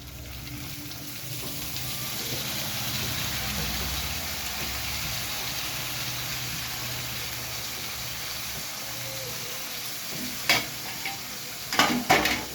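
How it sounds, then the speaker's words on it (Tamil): Chopped beans and carrot stir-frying with softened onions in a pan for noodles, a continuous close sizzle with stirring scrapes, and a few sharp clinks near the end. "இப்போ வந்துட்டு பீன்ஸ் கேரட் வெட்டி வச்சுருக்கோம், அதை ஆட் பண்ணிக்கலாம்"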